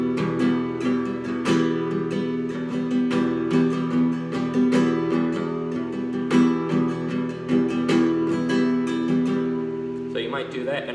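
Rumba flamenco strumming on an acoustic guitar mixes several rhythm patterns into one steady, groovy flow of sharp strokes. The guitar is up close and plays alone, with no talking, and ends in a brief scrape near the close.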